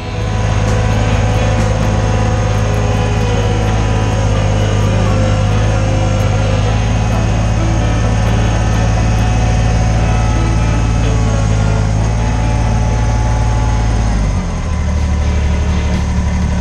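A Kubota BX23S compact tractor's engine drones loud and steady while lifting a pallet on forks, holding a constant labouring pitch before the low rumble shifts downward near the end.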